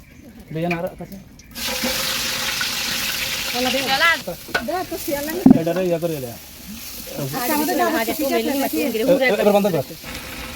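Green chilies dropped into a hot frying pan while preparing a Pohela Boishakh feast, giving a steady close sizzle and frying hiss with stirring clatter throughout; faint voices come and go underneath.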